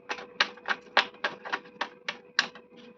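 Tarot cards shuffled by hand during a reading: about ten crisp, papery slapping bursts in a steady, even rhythm, close and fairly quiet, with no talking.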